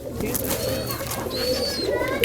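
Musaldam pigeons coo in low, rolling murmurs at a crowded pigeon farm, with a few higher chirps and bird calls layered over the steady cooing.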